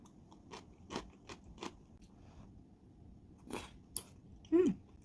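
Cabbage and rice cakes being chewed and eaten close up, with a handful of soft crunchy bites and wet mouth sounds in a quiet room, no talking.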